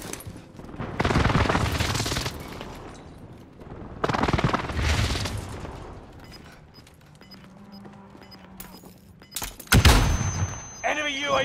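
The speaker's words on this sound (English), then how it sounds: "Enemy precision airstrike." Enemy precision airstrike explosions in Call of Duty: Modern Warfare arrive as three loud roaring bursts spaced a few seconds apart, with quieter in-game noise between them.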